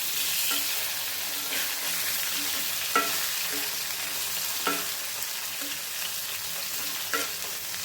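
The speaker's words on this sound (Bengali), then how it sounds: "এদিকে ছোটো মাছটা ভেজে নিচ্ছি" Small fish fry in a pan with a steady soft sizzle. Faint scrapes and taps of stirring come every second or so, and nobody speaks.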